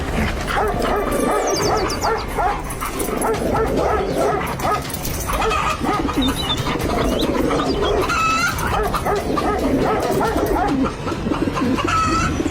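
Dogs bark and yelp loudly and continuously in a busy, noisy scene, with chickens squawking and fluttering amid the commotion as the dogs attack them.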